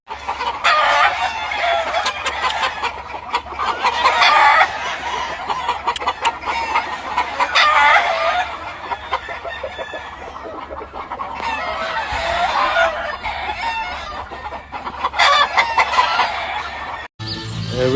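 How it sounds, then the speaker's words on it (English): Sweater roundhead game hens cluck agitatedly at a California poultry farm, with rooster crowing mixed in; the calls are loud and close, arriving in repeated waves with brief pauses between them. "She's mad that I caught her sister up"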